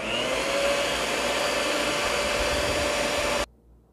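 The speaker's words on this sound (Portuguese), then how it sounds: "Eu vou ligar a batedeira bem rapidamente" An electric mixer beats cornmeal cake batter with a steady, loud motor whir lasting about three and a half seconds before it is switched off abruptly.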